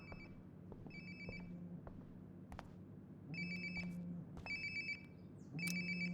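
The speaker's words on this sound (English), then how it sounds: "Sounds like my phone is definitely nearby." A phone ringtone in the video game Life is Strange: Before the Storm rings in repeated electronic bursts over a low background hum, fairly close and clear, with no talking.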